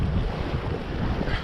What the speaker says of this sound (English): Wish it wasn't so windy though.